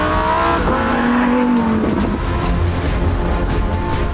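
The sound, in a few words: Lamborghini Huracan 5.2 litre mid-mounted engine driving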